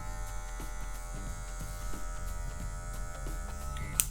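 An electric hair clipper buzzes steadily up close as its corner edges a medium fade haircut, run without a guard on a high zero setting.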